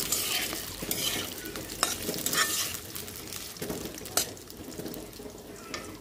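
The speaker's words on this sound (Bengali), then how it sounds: "তো আমি খুবই লো হিটে আলুটা ভাজবো" Potatoes fry gently over low heat in a home kitchen pan, giving a steady soft sizzle with occasional stirring scrapes and light utensil clinks, close and continuous, with no voices.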